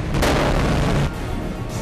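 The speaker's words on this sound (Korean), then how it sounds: "이때 갑자기 울린 폭발음." A loud, close blast bursts from a bamboo salt furnace during the final melting stage, a sharp boom followed by a heavy roaring rumble that drops off after about a second, with no voices.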